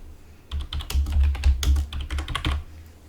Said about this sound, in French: Hop, on va se faire un nouveau dossier.